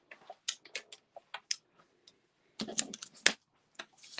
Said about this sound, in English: I'm going to come in with my cut and emboss machine.